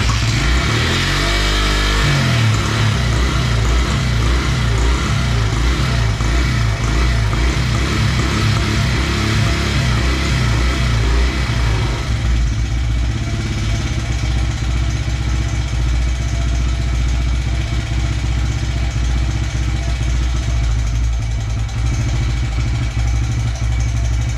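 A Honda CRF100 dirt bike engine fires up at the start and runs loud and steady close by, with a burst of revving early on that then settles into a rough, uneven idle.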